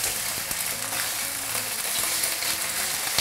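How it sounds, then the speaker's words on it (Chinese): Chicken thigh meat fries skin-side down in a lightly oiled flat frying pan over low heat, giving a steady close crackling sizzle without pause. "先煎皮"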